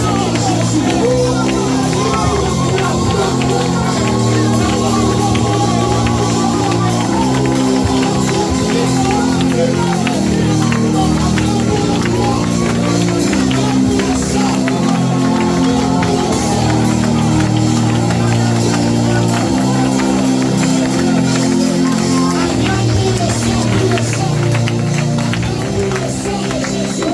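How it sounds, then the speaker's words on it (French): A church congregation cheers and acclaims Jesus in a loud, sustained roar of voices, shouts and whoops that never lets up, filling the space with dense crowd noise. "Nous acclamons le Seigneur Jésus."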